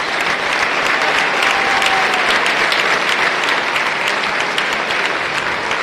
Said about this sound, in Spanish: Un fuerte aplauso, renovamos ese aplauso para ellos.